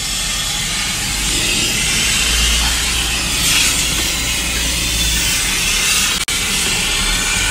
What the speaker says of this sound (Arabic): شايفين كيف تطلع بخار